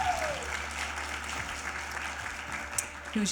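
Audience applause at a college speaking event, a steady wash of many hands clapping that holds at an even level throughout, with a faint voice at the start.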